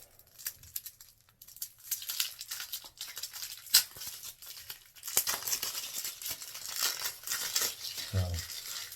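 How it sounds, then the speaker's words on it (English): A bar of soap is unwrapped from its packaging up close: crinkling, rustling plastic and paper with small tearing sounds in irregular bursts, fairly quiet, with a brief voice near the end. "So let's open this 1 bar up."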